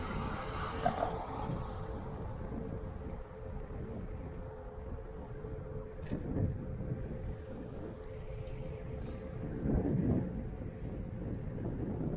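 Wind buffets the microphone in a low, continuous rumble while riding a Xiaomi Pro 2 electric scooter along seawalls, with road or motor noise underneath and a few stronger gusts.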